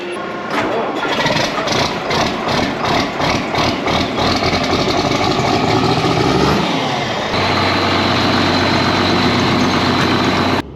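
Tractor engine cranking and catching on a cold morning with a weak battery, sputtering rhythmically before settling into a loud, steady idle close by, with no talk over it.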